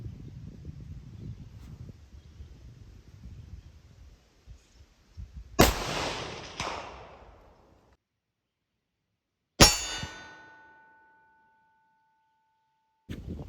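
A .224 Valkyrie rifle firing Hornady V-Max varmint rounds at a steel target 300 yards away on a windy range: one loud sharp report, then a distant metallic ring that fades over about a second, with a few faint rustles between.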